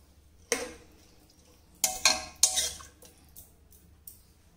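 A spoon clinks and scrapes against a pot while garam masala is stirred into mint rice, a few sharp metallic knocks spaced over quiet kitchen background.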